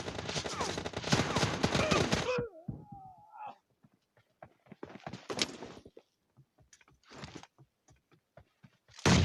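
Rapid bursts of video game gunfire in a team match, a dense loud volley at the start, then scattered sharper shots and short bursts spread across the rest of the clip.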